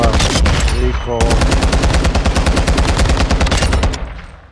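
Rapid automatic rifle fire with a 50-round magazine in Call of Duty Warzone, loud close bursts of evenly spaced shots, a brief break near one second, then sustained firing that tapers off toward the end.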